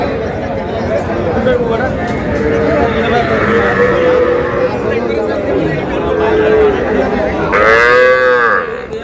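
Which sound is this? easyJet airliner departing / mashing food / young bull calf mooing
young bull calf mooing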